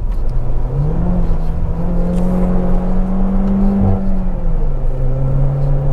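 A 2010 Peugeot RCZ with an automatic gearbox, front-wheel drive and a modified exhaust revs steadily on a misty, wet hillclimb road, its engine drone rising and holding a throaty note, loud and close inside the car.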